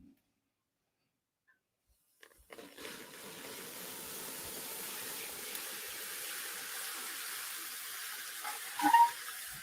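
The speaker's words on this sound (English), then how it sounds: "I'm going to pour some in the bowl." Liquid nitrogen poured into a bowl gives a steady, soft hissing and bubbling wash that starts abruptly after a quiet opening and holds evenly, with a brief louder burst near the end.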